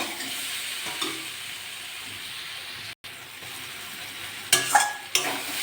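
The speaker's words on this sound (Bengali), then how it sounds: "ভালো করে মশলা দিয়েছি, এবার কষে নেব" Small fish with potato and brinjal being stir-fried with spices in a pan, a soft continuous sizzle with a brief pause and a few sharp utensil scrapes near the end.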